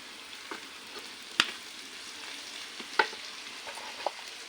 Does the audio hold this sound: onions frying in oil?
yes